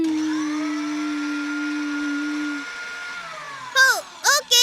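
A cartoon voice imitates a mixer grinder with a long, steady buzzing hum that slowly fades, followed by a few short sung vocal bursts.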